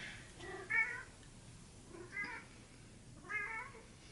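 A cat meows indoors three times at spaced intervals, each call moderately faint and slightly distant against a quiet room background.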